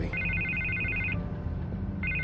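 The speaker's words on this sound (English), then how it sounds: "I can't get the phone to stop ringing." A telephone rings in an office in a Batman video game, a steady electronic trill that repeats, pauses for about a second, then starts again over a low rumbling background.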